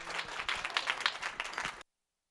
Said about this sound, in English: Let's give our panel a big round of applause